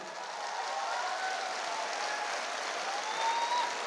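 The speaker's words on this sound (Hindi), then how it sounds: "मैं चाहूँगा शानदार तालियां होनी चाहिए" An audience at an Indian company gathering claps steadily, a dense, even wash of applause held for several seconds at moderate distance, with no voices over it.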